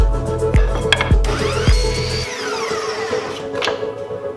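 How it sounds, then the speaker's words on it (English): A table saw rips through wood to make braces, with a few rhythmic thumps from feeding the board, then the blade whines as it spins down, loud and close. "I'm going to go over to my table saw and make those right now."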